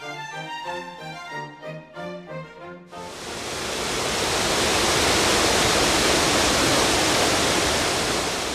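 Flowing river water rises into a loud, steady broadband rush that fills the rest of the stretch after a few seconds of music, with no voices.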